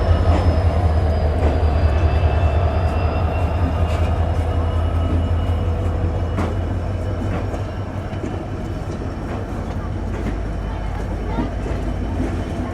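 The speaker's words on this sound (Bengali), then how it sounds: "সেইষট্টি শূন্য এক লোকোমোটিভ নিয়ে খুলনা ও ঢাকার ভিতর চলাচলকারী আন্তনগর আপ চিত্রা এক্সপ্রেস ডিপার্চার নিচ্ছে যশোর জাংশন থেকে" Chitra Express, an intercity train hauled by locomotive 6601 on the Khulna–Dhaka route, departs Jessore Junction with a loud steady rumble of wheels, rhythmic clicks and faint squeals, heard close with a voice talking over it.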